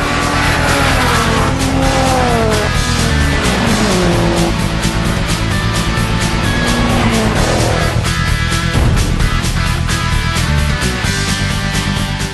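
A Toyota Corolla and other cars launch down a standing quarter-mile drag strip, loud engines roaring and rising in pitch through gear changes, with tire squeal and passing cars, continuous and close.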